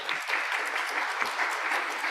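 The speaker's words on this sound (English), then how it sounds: "I want to give a huge round of applause" Sustained applause from an audience at a campus lecture honoring interns, a dense steady wash of many hands clapping at even loudness throughout.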